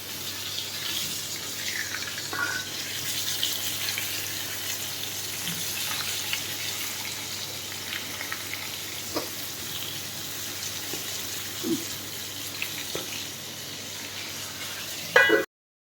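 Pointed gourd (potol) pieces frying in oil in a pan, a faint continuous sizzle with occasional soft clicks of turning and stirring, ending on a louder knock.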